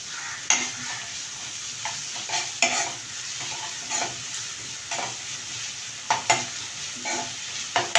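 Chopped ginger and garlic sautéing in a pan, a steady close sizzle broken by repeated scraping stirs of the spatula at irregular intervals, with no talking.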